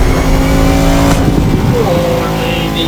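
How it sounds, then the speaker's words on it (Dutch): Car engine revving in The Crew Motorfest racing game, with a steady loud engine tone that shifts pitch midway, turbo and exhaust noise, and someone talking over it. "Oh, die turbo kan uit die uitlaat komen."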